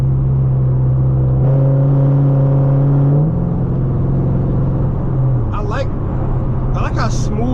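A Camaro 2SS with long-tube headers and straight pipes accelerates, its loud, deep exhaust drone rising in pitch and then settling, while someone talks over the engine.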